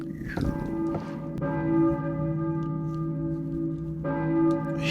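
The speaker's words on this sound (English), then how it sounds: "church bell, maybe. Who is ringing the bell?" A church bell in the video game Silent Hill rings with two deep, resonant strikes spaced a few seconds apart, each followed by a long sustained ringing hum.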